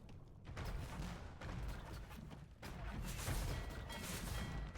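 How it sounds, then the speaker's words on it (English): Cannon galleons fire on castles in a strategy game battle, heard as a dense stream of overlapping booms and crashing impacts, fairly loud and continuous with brief lulls, and no talk over them. "Cannon Galleons are shooting at the castles."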